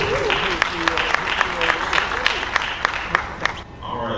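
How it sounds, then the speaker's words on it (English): Steady audience applause at an economic development event, a dense patter of many hands clapping that continues for several seconds before fading out. "can we give Randolph another round of applause?"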